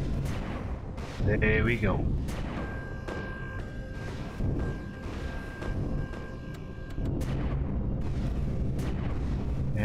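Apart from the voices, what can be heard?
gunfire shots in video game Empyrion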